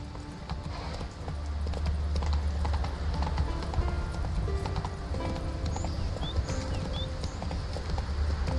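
Horse hooves clip-clop steadily in the Witcher 3 video game, a continuous run of fairly close, even hoofbeats over a low, constant ambient hum.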